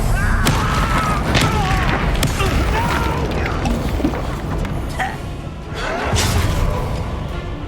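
Confringo fire-blast spells in the Hogwarts Legacy video game combat, loud booming explosive bursts layered over continuous battle noise, with character voices shouting throughout.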